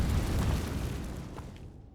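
Spell explosions in Hogwarts Legacy, the Bombarda and Confringo blasts: a deep booming burst that rolls and fades away over a couple of seconds, moderately loud with no talk.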